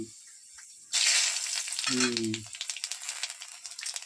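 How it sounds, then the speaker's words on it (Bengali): Bay leaf, chilli and whole spices hit hot oil in a kadai for home-style ghugni, bursting into a loud, steady sizzle that holds on, with a brief low clatter partway through. "তেজপাতা লঙ্কা ফড়ং দেওয়া হলো।"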